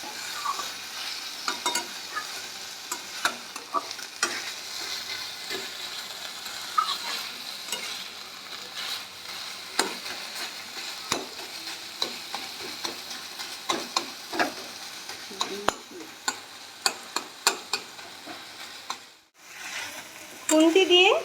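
Gourd leaves are stirred and pressed with a spatula in a frying pan for a Bengali banana-stem dish, with a constant soft sizzle and repeated close scrapes and taps of the spatula against the pan.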